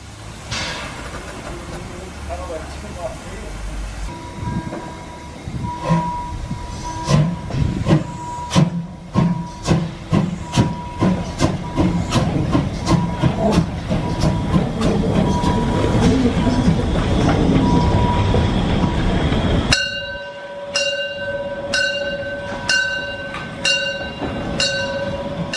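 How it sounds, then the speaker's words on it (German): A narrow-gauge train on the Weißeritztalbahn pulls away, loud and close, with a rhythmic clickety-clack of wheels over rail joints that speeds up, a hissing rumble beneath, then slower clacks with ringing tones. "Gegen 18 Uhr steht der Zug für die Rückfahrt bereit."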